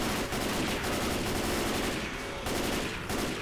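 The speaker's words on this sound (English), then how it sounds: "I was shooting it with a minigun." Minigun firing in Left 4 Dead co-op play, a dense rapid rattle of gunfire at close range, loud and continuous with only short dips, no speech over it.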